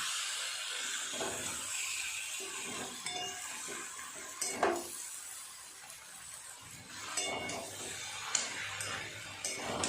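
Water goes into a pan of fried prawns and jackfruit for a Bengali curry, bringing a soft, continuous hiss and simmer, with scattered clinks of a utensil against the pan and a sharper scrape or two.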